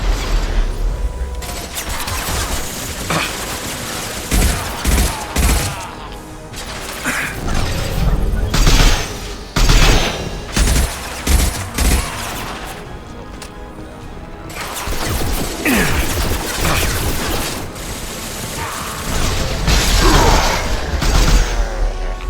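Gunfire in the video game Mass Effect 2 on Insanity difficulty, loud bursts of shots and impacts in uneven clusters with short lulls, mixed with game effects throughout.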